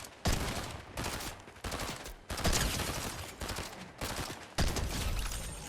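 Bursts of gunfire in the video game Fortnite, several loud rapid volleys separated by short gaps, close and dominant with no talking.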